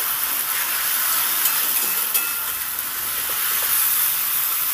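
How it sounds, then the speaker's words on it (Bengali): Spice masala with turmeric and chilli powder frying in oil in a pan, a steady close sizzle and hiss throughout with faint stirring scrapes, no voices. "এবার সুন্দর করে মশলাটাকে কষিয়ে নেব।"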